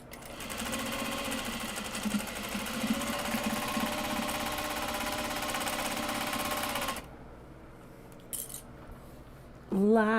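A sewing machine stitches the end seams of a small box bag, a close, loud, steady whirring rattle for about seven seconds, then stops, followed by a few faint clicks and a short burst at the end.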